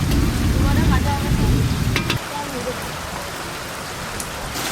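Tilapia fish pieces deep-fry in hot oil in a large kadai, a dense, close hissing sizzle that is louder and rougher at first, then settles into a steadier, softer crackle.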